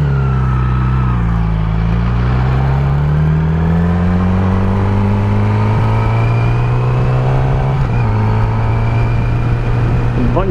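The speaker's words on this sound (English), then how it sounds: "And now I'm going to test the bike again on first gear." Yamaha R6 sport motorcycle with an engine problem revving in first gear, a loud close steady drone that climbs slowly in pitch, briefly dips near the end, then picks up again, with no talking.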